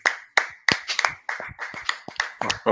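A single person clapping hands, about ten sharp claps in an uneven rhythm, close and loud with no talk.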